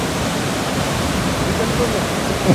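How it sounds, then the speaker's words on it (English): Fourteen Falls waterfall in Kenya roars as a steady, loud broadband wash of falling water, continuous and close throughout. "This is the waterfall."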